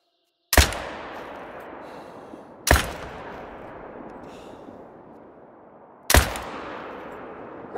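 Three loud rifle shots at bison in TheHunter: Call of the Wild, spaced a few seconds apart, each a sharp crack followed by a long echoing decay.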